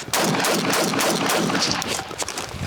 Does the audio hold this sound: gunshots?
yes